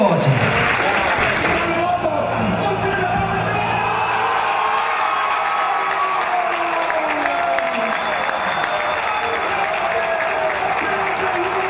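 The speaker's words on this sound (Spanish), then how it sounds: "el aplauso para las dos" Loud crowd applause for two athletes at the San Francisco de Asís awards ceremony, mixed with whoops and shouted cheers and a voice ringing over the crowd near the start.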